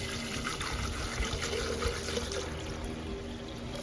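Water pours steadily into a 2000 ml laboratory beaker during gold refining, a continuous soft rushing trickle at moderate level with a faint background hum.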